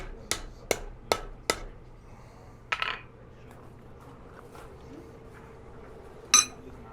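Four quick, evenly spaced metallic taps from the flat face of a hammer on hot steel from a farrier rasp or railroad spike, followed by a couple of scattered clinks, close over a steady low hum.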